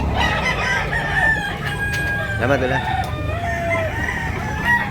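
Several roosters crow over one another at a Sunday rooster market in Tabunok, Talisay, Cebu, their calls rising and falling against a busy crowd murmur, with someone speaking briefly nearby.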